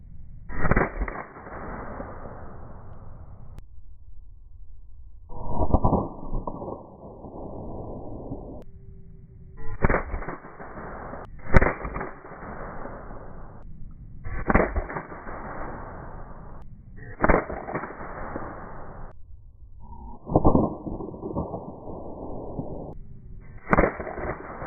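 Shots from CO2 BB pistols, a Sig Sauer Emperor Scorpion 1911 and a Beretta APX, played back in slow motion outdoors: about ten loud stretched cracks, each followed by a drawn-out ringing tail, spaced a few seconds apart.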